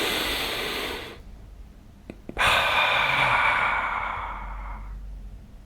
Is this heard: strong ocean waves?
no